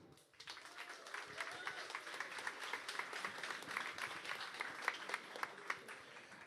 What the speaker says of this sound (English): So please give a massive round of applause to Sergey.